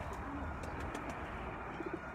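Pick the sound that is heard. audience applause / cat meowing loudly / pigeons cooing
pigeons cooing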